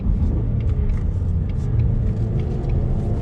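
Factory active exhaust on a 2020 Ford Mustang EcoBoost rumbles steadily under throttle, a close, loud, continuous low drone with no talk.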